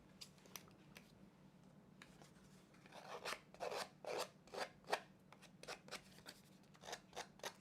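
Quiet rustling at first, then a run of crisp, rhythmic snips and crunches of scissors cutting through paper, close up.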